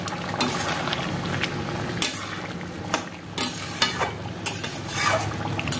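Soybean curry seasoned with garam masala is stirred in a pan, a steady low sizzle under repeated scraping and clinking strokes of a spoon against the metal, close and moderately loud.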